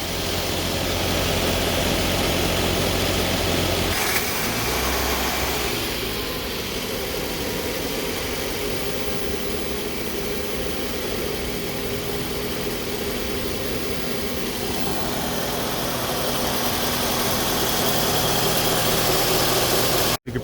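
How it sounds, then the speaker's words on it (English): A car engine idles in a workshop lab with a continuous, even low hum, a brief clunk near the start and a slight change in tone partway through; no one speaks. "so the vehicle does have to be running."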